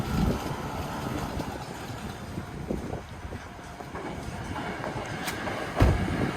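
Two Kyoto line trains rumble past a local road crossing, a continuous low rolling rush with faint clatter, heard from nearby at moderate level with no one talking.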